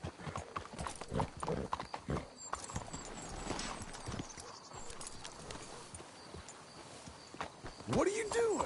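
Horse hooves clip-clop at a walk in the video game Red Dead Redemption 2, faint irregular steps mixed with talking and a short whinny near the end.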